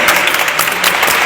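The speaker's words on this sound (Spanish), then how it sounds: "démosle un aplauso, por favor" Audience applause at a Spanish-language book event, a dense, steady wash of clapping filling the room from start to finish, loud and close with no voices on top.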